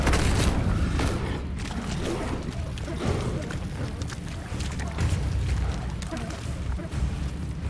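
An Incendio fire spell is cast in the video game Hogwarts Legacy, giving a sustained roaring, crackling burst of flame with deep rumbling booms that rises and falls over several seconds.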